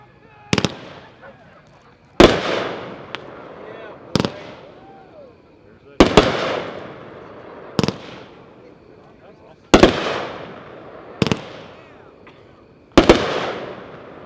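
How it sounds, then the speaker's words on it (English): A Pyroland Pushin' Up Daisies 12-shot firework cake fires its shots one at a time, with loud, sharp booms at irregular intervals, each trailing off into crackle and echo. "Number 1 is Pushin' Up Daisies. Pyroland brand, packed 8-1, 12 shots."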